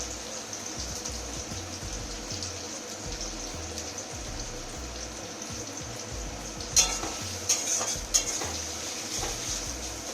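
Chopped onion frying in a pan sizzles softly and steadily, with a few sharper clinks of a spatula against the pan toward the end.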